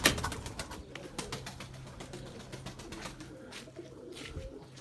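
Pigeon cooing in a loft as the birds fly, steady low repeated coos with some brief chirps and flutter, moderately near but quiet, no talk.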